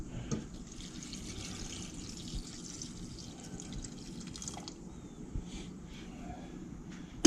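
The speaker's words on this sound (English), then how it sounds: "let me add some more water to it" Water being poured into a pot of reishi mushrooms, a soft, steady liquid splashing and dribbling at close range with a few faint drips, no talk.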